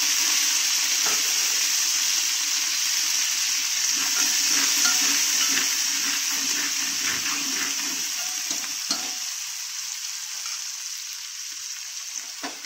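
Mutton curry ingredients fry in a pan, a steady bright sizzle with occasional stirring scrapes and clicks, loud at first and easing slightly toward the end, with no talking.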